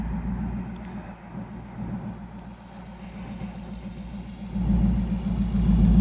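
A twin turbo Camaro drives by on the street, a deep engine rumble that swells louder toward the end as the car approaches.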